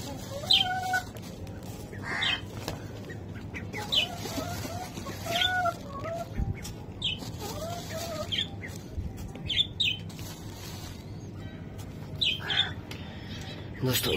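Lakka pigeons in a coop being fed grain give scattered bursts of bird calls over a low, busy background, with a person talking at times.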